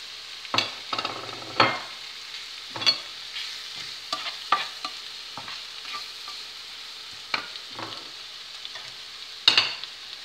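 Pieces of fish fry in a pan while a utensil stirs them, giving a soft continuous sizzle broken by about a dozen sharp scraping strokes at irregular intervals.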